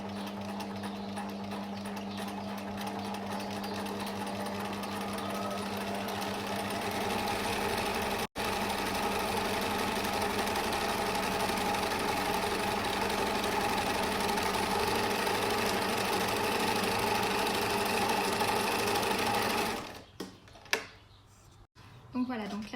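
A sewing machine stitches a fabric face mask, its rapid motor-driven clatter running steadily and close for most of the clip before stopping near the end with a few brief handling sounds.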